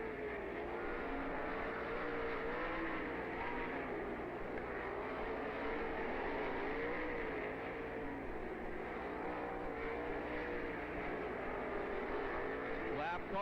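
Sprint cars racing on the dirt oval at Lernerville Speedway in Sarver, Pennsylvania, produce a continuous, steady engine roar from the pack, heard from a distance under faint announcer talk.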